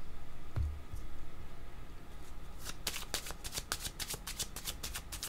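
A deck of cards shuffled nearby, starting with a soft handling rustle and then a dense, rapid riffle of card flicks over the second half, with no talking.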